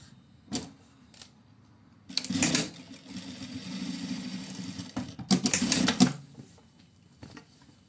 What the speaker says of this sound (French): on va venir coudre d'une couture à l'autre et à 1 cm